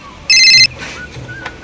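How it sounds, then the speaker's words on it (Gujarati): A mobile phone ringtone sounds in one short, bright electronic burst, loud and close, followed by quiet room sound with faint movement. "આ કોનો ફોન આવ્યો"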